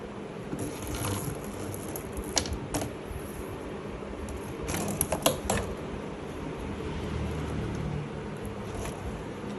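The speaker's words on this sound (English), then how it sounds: "Now he is going to attach the tubing." Plastic CPAP tubing clicks and creaks as it is attached to the mask of a Delta Sleep A20 auto CPAP with humidifier, with a few small knocks and rattles over a steady room hum.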